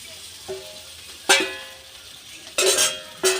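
Fried cauliflower and potato tumble into sizzling spice masala in a pan, giving several short, loud hissing bursts separated by quiet pauses.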